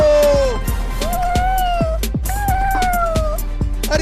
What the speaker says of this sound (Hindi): अरे ये बिल्लियाँ तो मेरे पीछे ही पड़ गई।